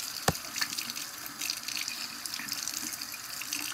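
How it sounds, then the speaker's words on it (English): A tap runs steadily into a sink while sticky slime is washed off hands, a continuous close hiss of flowing water with a brief clunk near the start. "I gotta wash my hands."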